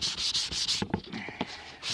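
Hand sanding of a primed car bumper: a run of rough, hissing rubbing strokes in a steady back-and-forth rhythm, close and fairly quiet, followed by a few shorter scuffs and taps with no voices.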